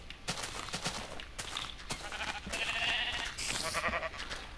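A baby sheep in the Minecraft video game gives several short, close bleats in quick succession, with no talk over them.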